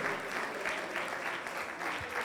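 A church congregation claps during a prayer service, an even, rhythmic wash of applause with faint voices underneath.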